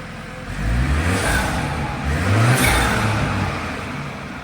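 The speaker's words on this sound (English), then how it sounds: "You can hear the turbo flutter." A BMW engine idles and revs outside, with a fluttering whoosh from the turbo as the throttle rises and falls, fairly close and loud.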